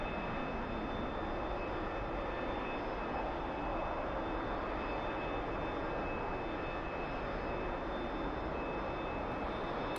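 A T-45 jet taxis toward the runway in a flight simulator, with a steady, continuous engine whine and rumble at low level, unchanging throughout.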